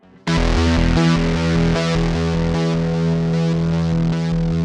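Sustained electric guitar notes through a Boss SY-1000 guitar synthesizer ring out with a thick, distorted, layered tone, each note doubled one and two octaves higher, played loud and steady.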